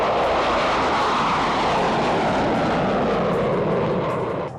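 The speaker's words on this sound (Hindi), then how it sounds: "लद्दाख के शांत गगन को भेदते मिराज 2000 और सुखोई 30" Mirage 2000 and Sukhoi 30 fighter jets fly over Ladakh near the LAC, a loud sustained roar that holds steady and cuts off abruptly at the end.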